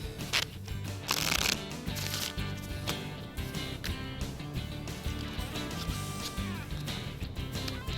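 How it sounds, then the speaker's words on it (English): Playing cards shuffled repeatedly up close, a dense riffling flutter with a louder burst early on, continuing steadily. "Guess we have to shuffle up and deal."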